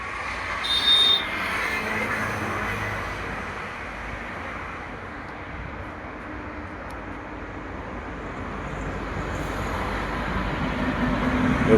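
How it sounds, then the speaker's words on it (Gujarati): A train arriving at a station makes a low, fairly distant rumble that holds steady and then swells toward the end, with no voices over it. "તો ટ્રેન આવી."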